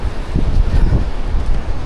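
Strong wind rushing through holes in a rock shed along a mountain road to Baguio after two weeks of heavy rain, a loud, close, continuous roar with gusty buffeting against the microphone and no voices.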